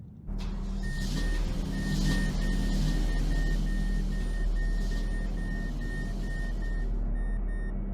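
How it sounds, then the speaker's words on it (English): A 2007 Mazdaspeed3 engine cranks and fires, settling into a steady idle that holds evenly throughout, close and fairly loud, accompanied by a repeating electronic chime. "Let's start this car up."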